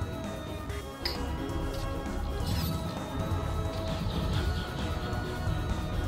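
A ship crash in the space game Star Citizen brings a sudden smashing impact. Continuous rumbling engine noise and metallic clatter follow at close range, loud and dense throughout, with no clear talk over it.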